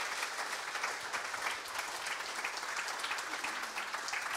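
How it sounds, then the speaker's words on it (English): A live podcast audience applauds its guests, Celtic players, with steady, dense clapping throughout, fairly distant and even in level, with no voices over it. "Everybody, give up a big round of applause for Ben Siegrist, Amy Gallacher and Matthew Anderson"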